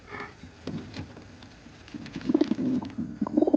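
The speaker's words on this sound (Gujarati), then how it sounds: "આ કબૂતર મેં આજ જોયું." A pigeon, apparently a newcomer in a loft setup, gives soft, low, throaty cooing pulses from close by, growing more frequent toward the end over a quiet background.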